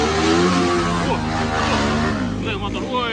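A motorcycle engine revs hard and steadily at close range, its throaty drone filling the whole moment while people talk over it.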